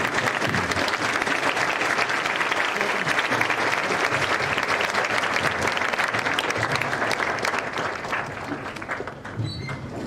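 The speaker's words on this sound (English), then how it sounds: "let us all give a standing ovation and one more round of applause for" A large audience gives a sustained standing ovation for guests at a university science and environmental science school event, dense steady clapping filling the room for about ten seconds before easing slightly at the end.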